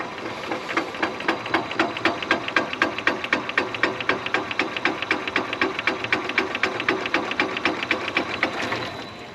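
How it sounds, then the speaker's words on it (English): A small electric motor mounted on top of a honey extractor spins steadily on a farm, making a fast, even rhythmic clatter of repeating beats throughout, close and moderately loud, with no talk. "Yep, got a little electrical motor on the top."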